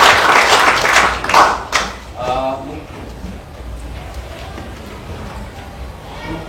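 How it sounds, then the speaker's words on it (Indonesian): A media-session crowd at a badminton club audition claps for player Kevin Sanjaya, a brief burst of applause at the start that fades within two seconds as a voice speaks over the quiet room. "Tepuk tangannya dulu untuk Kevin Sanjaya."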